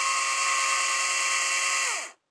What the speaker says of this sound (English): now we're going to give the Wild Badger a 40-volt electric chainsaw